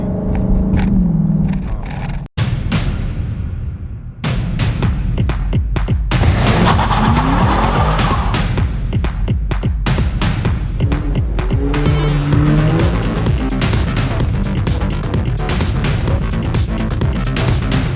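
A powerful engine roars and climbs rapidly in pitch, loud and close, with a brief cut before the revving surges on.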